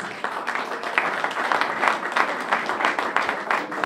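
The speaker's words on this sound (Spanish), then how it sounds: "Fuerte aplauso para la profesora" An audience at an education awards ceremony gives a teacher applause, steady crowd clapping at moderate, slightly distant volume that continues evenly throughout.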